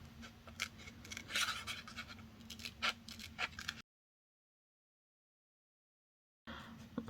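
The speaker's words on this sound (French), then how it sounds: "quand on découpe, hein, c'est vraiment le papier qui tourne, les ciseaux ou les restent dans la main" Scissors snip and scratch through paper while an Easter card is cut out, a close run of irregular crisp cuts for a few seconds, then a sudden silence, then more cutting.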